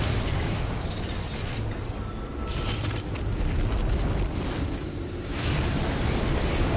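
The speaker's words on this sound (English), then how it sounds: "we'll use the force gun a bit" Heavy blasts and rumbling bursts from the force gun in the 2008 survival horror game Dead Space, a dense, loud wash of explosive noise with mechanical clanks that swells and recedes, and no talking.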